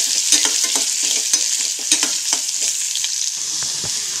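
Onions frying with curry leaves in a tempering for Andhra-style ulava charu, a loud steady sizzle with frequent crackling pops and stirring scrapes throughout, close and alone.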